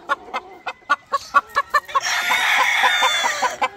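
A fast gamecock rooster gives a quick run of sharp, evenly spaced clucks, close and loud, then breaks into a sustained raspy crowing call at the end.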